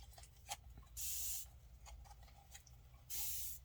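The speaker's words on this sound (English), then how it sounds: "Now that I sprayed it and wet it." A spray bottle mists water onto a gelli plate in two short, bright hissing bursts a couple of seconds apart, close but quiet, with faint taps and handling noises in between.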